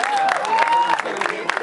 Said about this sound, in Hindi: महेश जी के लिए बहुत सारी तालियां होते हैं,